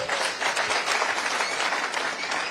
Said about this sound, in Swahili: Makofi kwa Bridget.